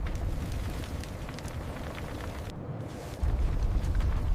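Fire melts aluminum parts from a scrapped bomber, a dense, roaring rush with a low rumble underneath, steady and close, swelling slightly near the end.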